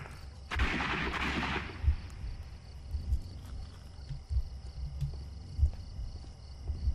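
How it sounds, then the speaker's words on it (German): Gunshots ring out in the Sherlock Holmes Crimes and Punishments video game, a sharp loud crack followed by a long noisy burst, then scattered faint thumps over a quiet low ambient hum. "Zwei Schüsse."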